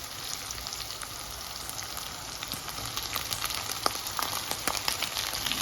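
Shredded chicken frying in olive oil, a steady, close crackling sizzle with scattered pops that build slightly over several seconds, with no voices.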